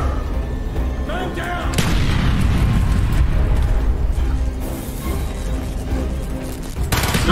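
Explosions and gunfire erupt in a jungle battle in Call of Duty: Black Ops, a loud, continuous barrage of shots and booms with a voice briefly shouting over it.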